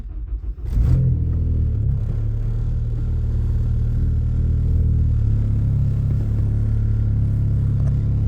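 A car with a check engine light being started: a brief cranking burst, then the engine catches and settles into a steady, loud, low rumbling idle with a slight rise in pitch partway through.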